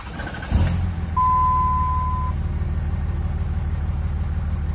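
A Dodge Ram 2500 pickup with over 300,000 miles cranks briefly and then fires up, settling into a steady, loud, low idle rumble, with a thin high tone running for about a second early on.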